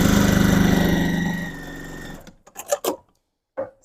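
A sewing machine back stitching a quarter-inch fabric seam runs in a steady, loud mechanical whir, then stops, followed by a few brief handling clicks and rustles.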